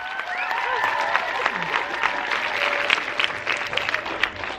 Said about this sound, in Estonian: Aplaus Liisale!